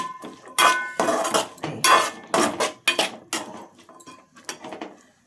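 Sliced onions frying in oil are stirred in a metal pan with a utensil, giving a series of sharp clinks and scrapes, loud and close, in irregular bursts that grow softer and sparser.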